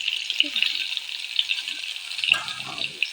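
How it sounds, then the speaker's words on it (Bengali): Eggplant slices frying in oil in a wok, a steady bright sizzle with faint clinks, followed by a rougher burst of bubbling and rattling near the end. "এবারে দিয়ে দিলাম আমি কড়াতে তেল তারপর এক এক করে বেগুনগুলো ভেজে নেবো"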